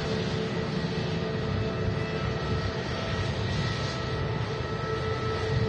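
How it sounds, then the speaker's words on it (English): An easyJet Airbus A320neo jet taxis past at Manchester Airport with a loud, steady engine roar and hiss that holds even throughout. No one speaks. "It's an A320neo just taxiing past with easyJet."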